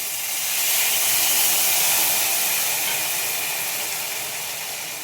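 Tamarind juice hits hot oil for puliyogare, a loud, steady broadband sizzle and splutter that swells in the first second and holds close, easing slightly toward the end with no voices.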